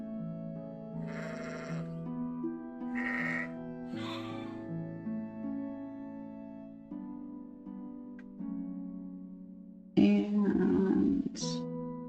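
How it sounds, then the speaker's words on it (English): Sheep in the video game Teddys Haven bleating several times over a soft tonal music bed, with separate wavering bleats spaced apart and a louder, closer bleat near the end. "and get some more sheep."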